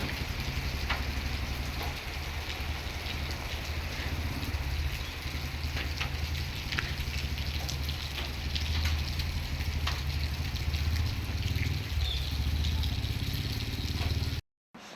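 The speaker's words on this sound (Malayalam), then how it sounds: "ഇതാ നല്ല മഴയുണ്ട് കേട്ടോ പിന്നെ കുറച്ച് കഴിഞ്ഞപ്പോൾ നല്ല മഴയായിരുന്നു" Heavy rain pours steadily throughout, a dense continuous hiss with a low rumble beneath, ending in a brief drop to silence at the very end.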